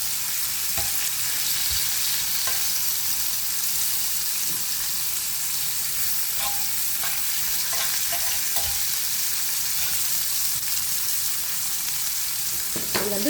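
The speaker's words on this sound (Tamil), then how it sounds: "அதனால் ஒரு பக்கம் மிளகாயும் ஒரு பக்கம் வெங்காயத்தை போட்டு பொரிச்செடுப்போம்." Chillies and onions fry in hot oil in a pan for a burger filling, with a steady, close sizzle and crackle that goes on throughout and a few soft stirring clicks.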